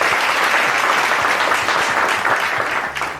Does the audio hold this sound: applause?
yes